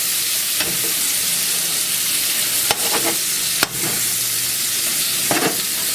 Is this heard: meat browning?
yes